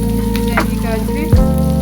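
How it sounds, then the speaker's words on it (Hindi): Chopped carrots fry in a pan with a loud, continuous sizzle. A brief clatter sounds near the end, over a steady low hum. "चॉप की हुई गाजरें। फ्राई करेंगे।"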